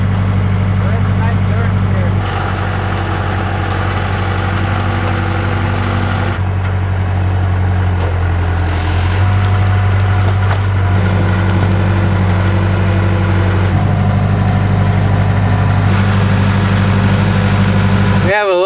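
A skid loader engine runs steadily while backfilling a muddy trench beside an old mansion, a close, continuous low drone with a brief shift in tone partway through.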